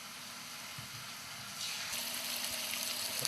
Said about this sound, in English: Just put about a quarter of a cup olive oil, and then we'll just saute these up.